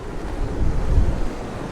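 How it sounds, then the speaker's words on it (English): Big ocean waves during a typhoon in Da Nang, heard as a heavy, rumbling surge swelling and easing under strong gusting wind that buffets the microphone, with no voices. "the waves are really swelling up pretty big"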